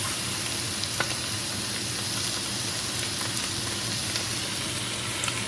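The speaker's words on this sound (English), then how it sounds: "I'm just gonna let this cook until it turns golden on the skin side, and then I'm gonna flip it" About ten chicken teriyaki pieces fry skin side down in a hot pan, giving a steady, dense sizzle with a few faint pops and no talking.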